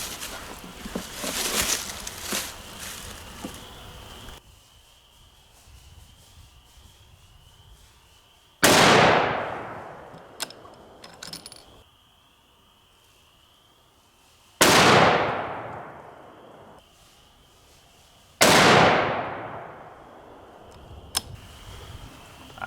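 Three sharp .243 Winchester rifle gunshots, spaced several seconds apart, each a loud crack with a ringing decay, over quiet outdoor background and some early noise.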